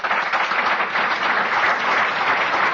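A crowd at a recovery roundup gathering in Huntsville, Alabama applauds loudly and continuously, a thick, even wash of clapping from a large audience with no voices over it.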